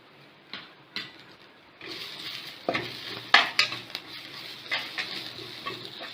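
Onions fry and sizzle in a pan with asafoetida and salt for kollu sundal, a spoon scraping and stirring in irregular knocks over a steady hiss, close and fairly quiet, with no talking.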